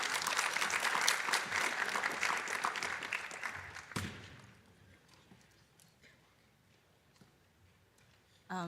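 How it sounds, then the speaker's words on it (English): An auditorium audience at the International Astronautical Congress gives warm applause that rings out loudly for about four seconds, then drops off abruptly to quiet room tone, with a voice starting at the very end. "A welcome with a warm applause."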